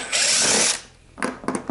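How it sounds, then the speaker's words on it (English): A small impact driver fitted with a Torx tip drives screws on a DeWalt DW735 thickness planer, one loud close burst of whirring and hammering followed by two short rattling spurts. "I like to just take a Torx tip, my little impact driver,"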